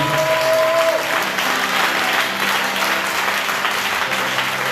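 A church congregation at a Sunday service claps loudly in acclamation of God, a thick sustained roar of many hands close by, with a brief voice or tone at the start and faint humming under the clapping.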